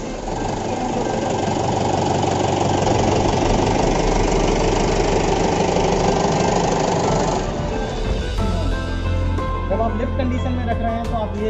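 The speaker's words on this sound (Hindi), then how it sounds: "ट्रैक्टर को स्टार्ट करना पड़ेगा।" A tractor engine runs steadily and loud while a plough implement is hitched to it, with a continuous low rumble that shifts in tone partway through and a voice heard faintly at times.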